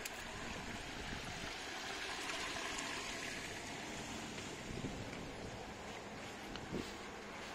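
Wastewater from a koi pond sieve filter pours into a fish-waste collection barrel, a steady, low rushing and splashing flow that continues throughout with no talking.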